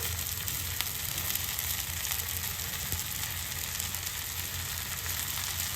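Ragi vermicelli sizzles steadily in a pan of sautéed tomatoes, a soft, even frying hiss that stays constant throughout with no talking.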